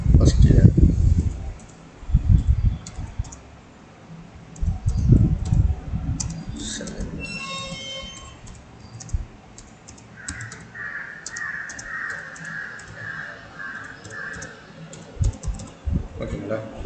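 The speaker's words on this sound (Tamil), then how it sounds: "இன்னொரு இங்கே ஏதோ ஒன்று டைப் பண்ணுறேன்." Typing on a computer keyboard during a computer lab exercise, irregular clicking bursts running throughout under a man's speech, with a brief tonal chime partway through.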